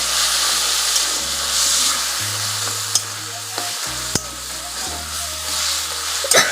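Spices frying in a pan as they are stirred, giving a continuous sizzle and hiss broken by scraping strokes and a few sharp utensil clinks against the pan.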